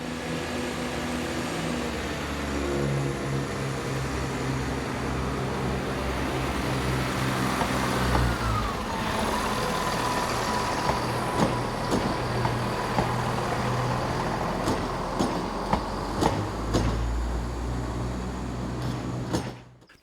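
Class 170 diesel multiple unit arriving on the Norwich to Lowestoft line, a continuous engine drone and rumble that shifts in pitch as it draws in, with a few sharp clanks and knocks near the end.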